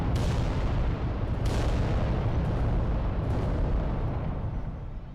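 Artillery fire from war machines in the game Adeptus Titanicus, heavy rumbling booms that blend into a continuous loud roar of blasts, fading toward the end.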